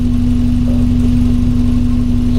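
A 1982 VW Westfalia engine idles through a resonator-only exhaust, a loud, steady low throb with an even pulsing beat and a constant hum, no voices.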